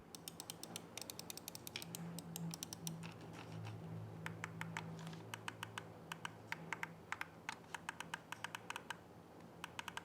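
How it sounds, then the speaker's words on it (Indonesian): Crisp, rapid clicks from a Digital Alliance Luna budget gaming mouse come in irregular bursts and quick runs, close and fairly loud over a low steady background hum, with no talking. "ini adalah contoh suara feedback dari mouse-nya."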